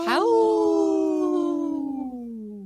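A person imitates a wolf howl in a single long, loud, clear tone that rises sharply and then slides slowly downward as it fades, heard alone and close.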